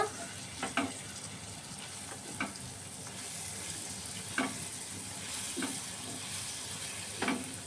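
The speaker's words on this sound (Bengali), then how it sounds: "আবারও সব জিনিসটা একসাথে মিক্স করে দেব" Garlic paste mixture sizzling in a frying pan during Bengali cooking of kachki fish with onion stalks, a steady low fry hiss broken by several soft stirring scrapes at irregular intervals, no talking.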